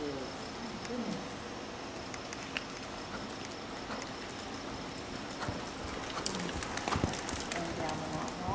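Pony hooves clip-clop in a riding arena in a steady trotting rhythm, moderately near, while an instructor talks over them.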